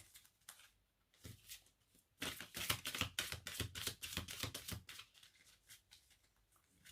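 Tarot cards being shuffled by hand, with soft, quiet riffling and flicking that starts sparse, swells into a denser run of rapid card snaps in the middle, then tapers off.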